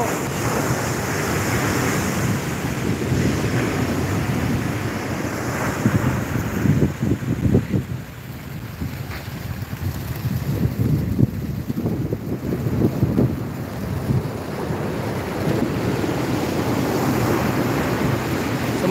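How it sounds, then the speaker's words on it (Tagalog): Large storm surge waves crash and roar along a sea boulevard in Bicol during a typhoon, a loud continuous surf wash buffeted by heavy wind noise, with bigger breaking surges swelling midway. "So hindi po yan normal na alon dito."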